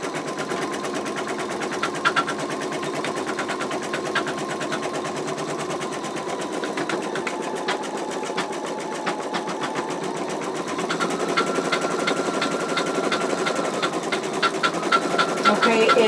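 An embroidery machine stitches out an in-the-hoop wallet in color-matched thread on fabric, a steady, rapid, rhythmic needle clatter that runs throughout and grows slightly louder toward the end.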